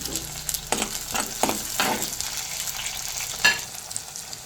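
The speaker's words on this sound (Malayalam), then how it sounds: "ഞാൻ ചതച്ച ചെറുള്ളി ഇതിലേക്ക് ഇടുകയാണ്" Crushed shallots and sliced green chillies sizzling steadily in hot oil in a frying pan, with a few stirring scrapes over the close, continuous frying hiss.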